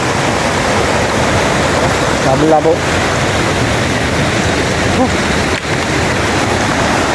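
A steady, loud roar of sudden rushing flood water fills the whole clip, broad and unbroken, while a voice calls out briefly over it.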